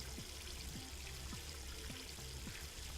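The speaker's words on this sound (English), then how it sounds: "There's water coming out of the faucet." Water runs steadily from a faucet into a sink in the video game Zero Escape: Virtue's Last Reward, a faint continuous trickle with no talk over it.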